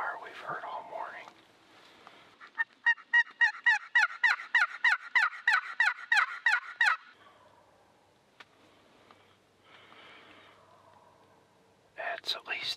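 Wild turkeys gobble in a long, rapid series of loud, rattling calls in snowy timber, followed by quieter gobbles and hushed whispering from nearby hunters.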